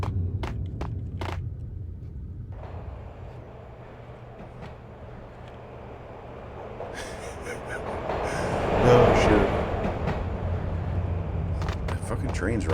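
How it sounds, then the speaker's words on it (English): A passing train rumbles in, swells to a loud peak, then eases off under a steady background drone, with a brief spoken exclamation over it. "So apparently you can't dodge the train."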